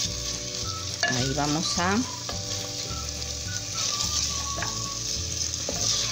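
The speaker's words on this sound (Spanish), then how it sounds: "mezclar nuestra carne con el aderezo que ya estábamos haciendo" Chopped beef strips sizzle loudly in a pan as they are stirred into a sauce base for Peruvian olluquito con carne. Spoon scrapes rise over the steady frying while a person briefly speaks.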